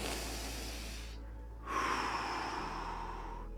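A single slow, deep breath drawn in during a quiet meditation moment, close to the microphone, a steady airy rush that pauses briefly and then continues, with no talking.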